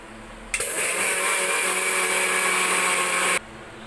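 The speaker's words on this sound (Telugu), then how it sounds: "ఇంకా కొత్త మిక్సీ ఇత్తలతో ఆన్ చేస్తున్నాను" A kitchen mixer grinder switches on with a sudden loud whir, runs at a steady high-pitched roar for about three seconds, then cuts off abruptly.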